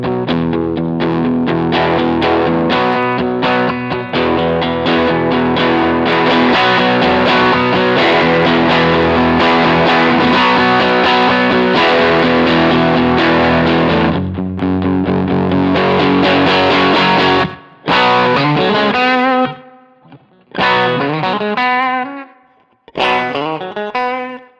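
Heavily overdriven electric guitar chords through a Helix amp patch ring out loud and sustained, then a few gritty distorted notes are played with short gaps between them.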